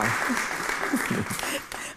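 A theatre audience at a comedy performance bursts into brief, dense applause mixed with some laughter and voices, steady and fairly close for about two seconds.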